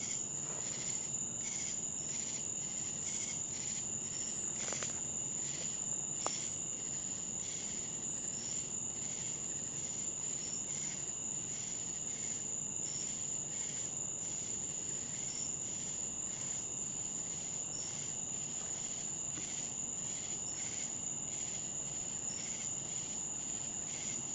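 Crickets and other insects chirp at night in an abandoned cemetery, a dense, steady high trilling that carries on without pause, with a faint tick or two early on and no voices.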